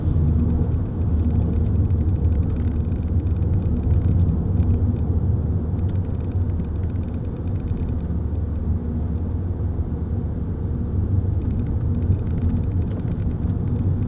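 Steady low diesel engine rumble from inside a moving Vauxhall Zafira 1.9 CDTi 16v SRi, droning continuously with road noise and little change in pitch.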